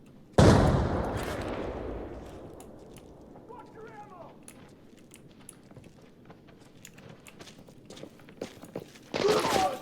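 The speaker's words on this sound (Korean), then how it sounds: "매니저랑 리딩 쪽에서 발소리 많이 들린다" Footsteps in a first-person shooter game, a loud burst at the start, then quiet scattered steps and ticks, with another loud burst near the end.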